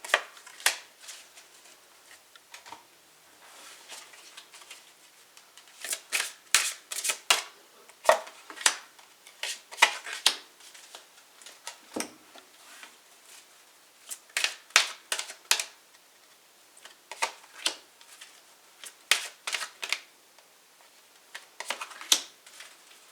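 A deck of tarot cards is shuffled repeatedly in close, crisp bursts of riffling and slapping, with short pauses between rounds and no talking.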